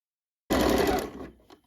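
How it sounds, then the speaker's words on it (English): A sewing machine runs a short burst stitching a second row a quarter inch from the first seam on a fall top, loud and close, then winds down at the end. "So now we're going to go ahead and stitch again 1/4 of an inch from the first seam."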